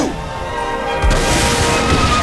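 A rocket launcher explosion in the video game Saints Row IV lands as one loud, deep boom about halfway through. A steady humming game soundscape runs before and after it.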